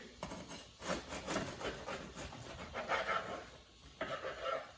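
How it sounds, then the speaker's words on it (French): Knife sawing through a homemade loaf of bread with repeated rough scraping strokes, fairly quiet and close. "on a une belle miche de pain qu'on va découper"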